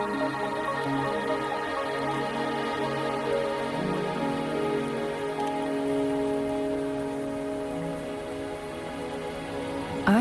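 Rain falls steadily in the video game Wuthering Waves, a soft even patter sitting under sustained tonal game music, with no voices.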